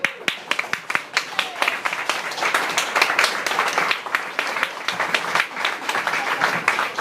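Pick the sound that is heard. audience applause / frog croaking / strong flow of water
audience applause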